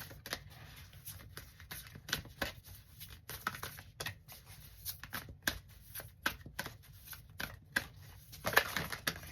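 A fairly new deck of cards is shuffled close up in repeated riffles and flutters of papery flicks, quiet and steady, with no speech over it.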